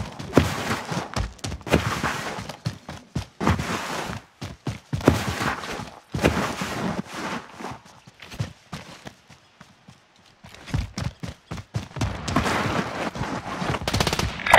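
Rapid bursts of automatic gunfire and single shots in a team shooter video game, loud and close, in repeated clusters with brief lulls and footsteps between them.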